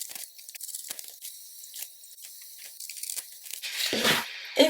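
Sharp snips and crisp tearing rustles of scissors cutting through tulle fabric, a series of close, quick cuts with brief pauses, ending in a louder burst of crinkling fabric handling.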